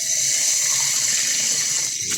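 A kitchen tap runs steadily into a sink while raw chicken is washed, a continuous close hissing gush of water with no pause.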